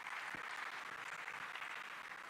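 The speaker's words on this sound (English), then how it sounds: "Please, a round of applause to him." Audience applause at the Africa50 conference launch in Tanzania, a faint, even patter of many hands clapping heard from a distance.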